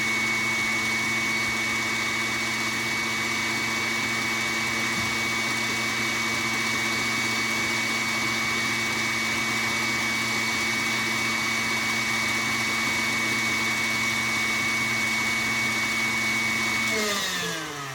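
An electric mixer whips coconut cream in a bowl, giving a loud, steady motor whine that holds for the whole stretch and winds down right at the end. No one speaks over it.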